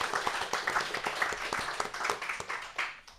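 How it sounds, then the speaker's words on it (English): Applause from a small audience at a policy round-robin event in Bozeman, Montana, heard as a moderate patter of separate hand claps that tapers toward the end. "Let's give Sarah a round of applause for pulling this all together"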